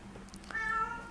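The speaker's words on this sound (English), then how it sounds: "Oh, my cat." A house cat gives a single short meow, fairly close and clear over a quiet steady room hum, with no talking.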